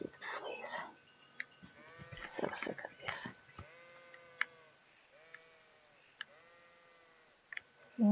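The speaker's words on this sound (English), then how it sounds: "It's gonna chase these sheep around, apparently." Sheep in the video game Kingdom Come: Deliverance bleat several times in short harmonic calls at moderate distance, with a burst of scuffling noise near the start and quiet gaps between cries.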